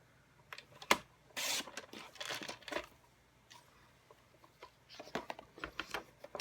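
Quiet scissor snips and paper rustling as a strip of patterned paper is trimmed for cookie cutter gift wrap, with irregular short cuts and crinkles close by.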